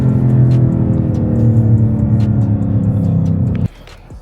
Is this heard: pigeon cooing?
no